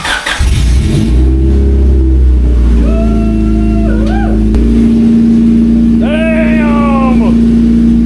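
A loud, booming Honda Civic engine revs hard and sustained with a deep rumble, pitch climbing in repeated throttle blips over a steady idle drone.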